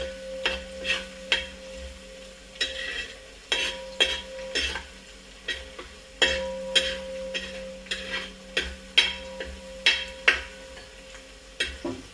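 Beef frying in a hot pan, a steady sizzle broken by a regular rhythm of spoon strokes scraping and stirring against the metal, close by and with no voices.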